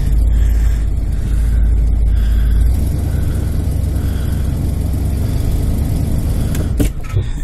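A 1987 Ford E-350 RV rumbles along slowly with a deep, loud, steady engine drone. The low rumble eases after a few seconds, and a brief knock is heard near the end.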